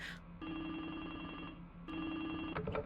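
A phone rings in the video game Scam Line with an electronic trill in two long bursts and a short gap between them, steady and moderately loud.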